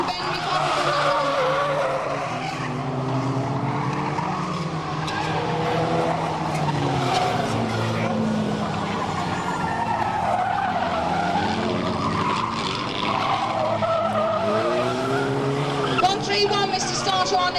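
Race cars at Fleet Raceway skid and squeal as they bump into the armco barrier, engines revving and tires shrieking continuously, with an excited commentator talking over the action throughout.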